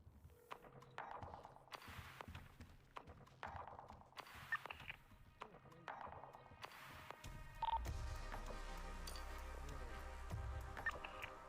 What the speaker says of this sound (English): I'm making a phone call.